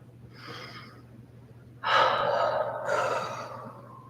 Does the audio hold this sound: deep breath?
yes